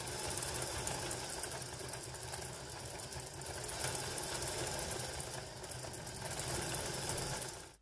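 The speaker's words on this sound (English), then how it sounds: "you can hear that the motor is having to work a lot harder than it did before." A LEGO motor driving an automatic CVT strains under load, giving a steady, close whirring and buzzing drone with a faint knocking rattle that persists evenly throughout, without any talk.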